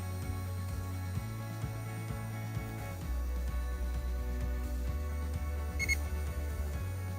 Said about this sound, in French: là j'ai une petite alarme. Probablement de batterie faible.